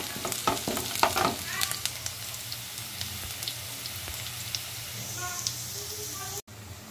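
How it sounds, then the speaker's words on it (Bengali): Onions frying in oil for birista give a steady close sizzle with spoons scraping and stirring through it, broken by a few clinks and brief background voices. "এইখানে আমি এই যে বেরেস্তার জন্য পেঁয়াজটাকে ভেজে নিচ্ছি।"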